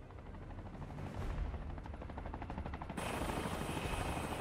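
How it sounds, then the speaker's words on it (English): Helicopter arriving in Final Fantasy 7 Rebirth: a steady rotor thrum grows louder and nearer over a few seconds, mixed with game sounds and louder toward the end, with no talking. "Helicopter coming in."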